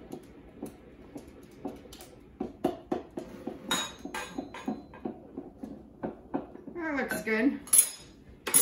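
Banana cake batter for Cameroon banana cakes being stirred in a bowl, with a steady run of clinks and scrapes of utensil against the dish, moderately close, and a brief spoken word near the end.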